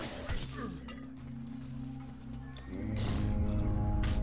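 Horse-like enemy creatures in the video game Titan Quest Ragnarok, giving snorting, whinnying calls with some clinking over a steady game soundscape that swells louder toward the end.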